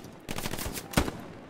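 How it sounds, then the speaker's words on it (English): A quick burst of rapid gunfire in the video game Hell Let Loose, several shots in fast succession followed by one louder crack, heard at moderate distance. "When I spawn in, I hear nothing but bunch of gunfire."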